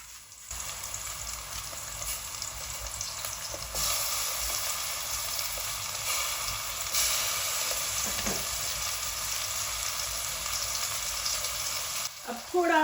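Tomato dropped into a frying pan of karela (bitter gourd) curry, with a steady, fairly loud sizzle of frying masala running throughout and a brief stir or clatter near the end.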